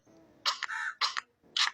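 A few harsh, raspy cough-like bursts, close by and fairly quiet, a bird mimicking a person coughing in short clusters.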